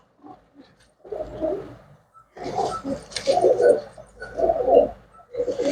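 Pigeons coo in low, throaty bursts, several calls in an uneven rhythm, close and moderately loud.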